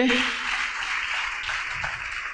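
A church congregation at an evening revival gathering claps together in a dense, steady wash of applause that holds evenly throughout, with a few voices mixed faintly into the crowd noise.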